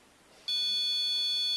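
A REM pod ghost-hunting device starts a loud, steady electronic beep about a third of the way in, a sustained high tone that holds without a break to the end.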